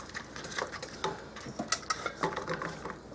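Sliced potatoes for au gratin being stirred in a dish, a steady run of soft clinks and scraping taps of a utensil against the bowl, close and moderately quiet.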